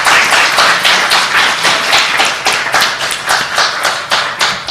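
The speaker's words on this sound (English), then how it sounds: "Why don't we give a round of applause to our panelists?" Audience clapping for panelists at a university panel on intimate partner violence, dense and close, with a rhythmic pulse of hand claps sustained evenly without talk.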